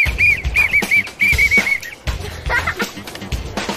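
Warbling whistle blown by spectators along a half marathon course, several short trilled blasts in quick succession over a noisy outdoor crowd with some voices.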